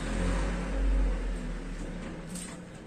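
A sewing machine stitching a pant waistband, giving a continuous close motor hum that swells and eases with the stitching speed.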